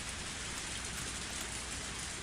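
Heavy rain pours steadily in the Higurashi video game, a dense, unbroken wash of noise that stays even and moderately loud throughout, with no other sounds.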